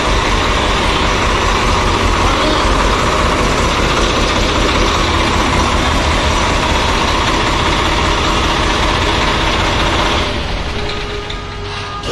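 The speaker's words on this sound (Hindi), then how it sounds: "ये आ रहा है भाइयों सिर ट्रैक्टर 744 XT स्वराज का 5-स्टार ट्रैक्टर" A heavy Swaraj 744 XT tractor engine runs at a steady, loud rumble up close, then eases off slightly near the end.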